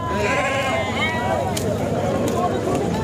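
Sheep bleat in wavering calls at a busy goat and sheep market in Sangola, close by under continuous crowd chatter and people talking.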